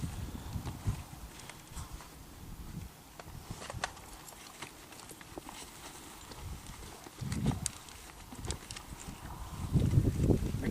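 A horse's hooves step backward on the ground in a few faint, scattered clumps separated by quiet stretches, with light wind in the background.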